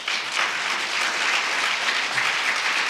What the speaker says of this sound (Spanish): ¿Le podemos dar un aplauso a nuestro Señor?